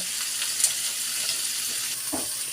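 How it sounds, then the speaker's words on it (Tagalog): Sweet spicy mussels (tahong) being stir-fried in a pan, a steady bright sizzle with faint scrapes and stirring knocks, moderately quiet and without speech. "Stir-fry nyo lang po siya hanggang feeling nyo, luto na siya."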